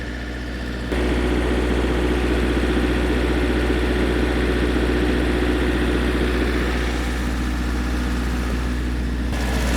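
A steady diesel engine of an MEP 803A generator drones at constant 50% load, a deep continuous rumble with a low hum and no variation for the whole stretch.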